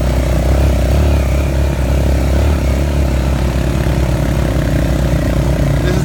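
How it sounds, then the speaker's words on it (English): An ATV engine drones loudly and steadily as it climbs a steep mountain trail near Jaco, Costa Rica, with a constant low rumble close to the rider. "This is Tom's second time riding ATVs"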